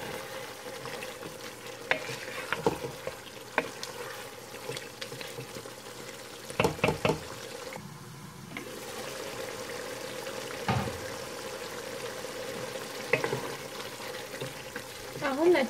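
Strips of beef for a mild Ethiopian alicha stew fry and sizzle steadily in a pan, with repeated scraping and clattering stirring strokes close by, and a few sharper knocks of the utensil against the pan.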